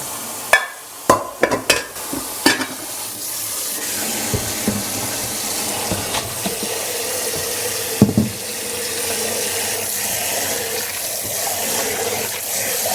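Udon noodles rinsed under a running kitchen tap for a Korean kimchi udon, steady splashing water with a few sharp knocks and clatters at the start, close by with no talking.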